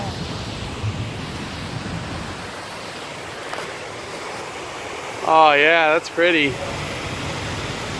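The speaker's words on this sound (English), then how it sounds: "I want to get the little waterfall." A small waterfall at the Gilroy Gardens amusement park gives a steady, soft rushing of falling water throughout, with a brief spoken remark partway through.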